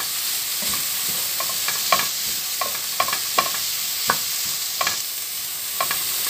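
Carrots fry in a little oil with a steady hiss of sizzling, punctuated by repeated sharp spatula taps and scrapes against the pan, close and continuous with no talking.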